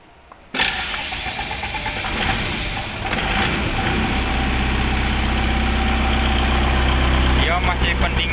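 A FAW 30 kVA silent diesel generator with a Stamford alternator starts up after about half a second and then runs steadily, a loud, constant low drone with mechanical whine, under brief talk.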